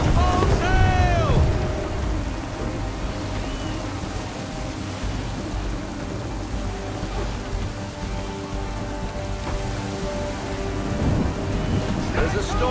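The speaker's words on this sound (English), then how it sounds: "There's a storm coming, Captain. Feels like a big one." Thunder rumbles and heavy rain pours during a storm at sea aboard a sailing ship in Assassin's Creed 3, with a loud crack near the start and sustained rain and wind that swell again at the end.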